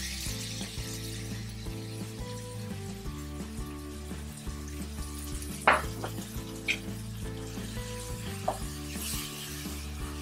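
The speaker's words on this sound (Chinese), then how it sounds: "将它们拌炒均匀" Dried shrimp stir-fried in a wok with white pepper and soy paste, a continuous sizzle with scraping spatula strokes and a few sharp metallic clanks, no talking.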